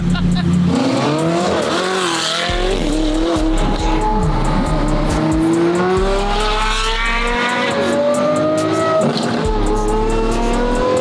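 A supercar with straight-pipe exhaust revs and wails with rising and falling pitch, loud and close, with a deep rumbling exhaust note underneath.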